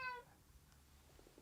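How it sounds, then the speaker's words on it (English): A cat gives a single short meow, faint and somewhat distant, followed by quiet room noise. "That's a cat."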